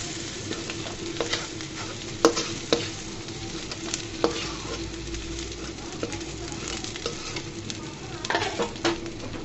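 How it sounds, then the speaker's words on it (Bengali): Onion and garlic fry in hot oil with a steady, low sizzle, while a few clinks and scrapes from a stirring utensil cut through it now and then. "পেঁয়াজ রসুনকে হালকা করে ভেজে নিব।"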